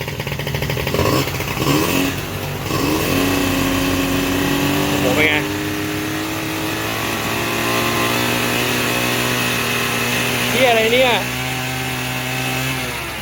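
A Honda ZX AF34 scooter that was hard to start, now with a rebuilt engine and smoking heavily, runs and revs loudly up close with a buzzing two-stroke whine, while people talk throughout.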